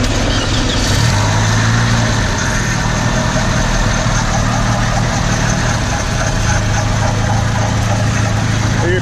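A car engine that had died runs loudly nearby after being started, with a steady idling drone and a low hum that rises and shifts, continuous throughout with no talk.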